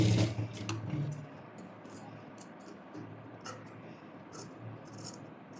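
A sewing machine stitches kurti fabric, starting with a brief louder whir, then settling into a quiet steady hum with faint ticking clicks, close by.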